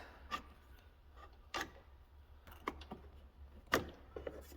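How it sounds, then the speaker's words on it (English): A hook pries a rubber hose off a barb on an oil line during a chaincase rebuild on a 2014 1100 Turbo snowmobile, giving a few short scraping, rubbing squeaks and a sharp pop, close and quiet with no talking. "They're great for breaking free hoses off of the barbs."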